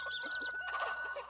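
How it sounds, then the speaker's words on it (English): Baby chickens in the farming video game Roots of Pacha give a quick run of soft, high clucks and chirps over a steady background tone during a brief moment with no talking. "Now we have two baby chickens in here at this point."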